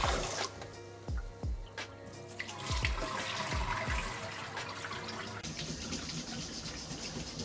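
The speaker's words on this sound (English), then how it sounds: "we're going to pour this rice into a sieve and this is how we're going to wash it" Running tap water splashes and patters onto rice in a sieve with irregular bursts of pouring, then settles into a steady hiss of flowing water.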